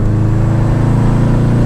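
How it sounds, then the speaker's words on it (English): A Subaru Impreza WRX with a boxer engine, tuned to 370 bhp, revs up steadily in a loud, close, rumbling drone with no voices over it. "Just building up the revs a little bit."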